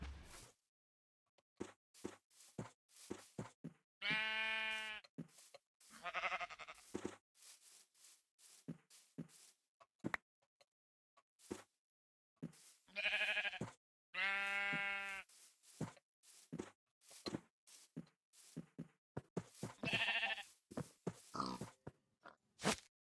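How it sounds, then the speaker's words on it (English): Sheep in the video game Minecraft, several distinct bleats spaced across the span among clicking game sounds and short thumps, fairly quiet overall. "We've got our sheep finally back here"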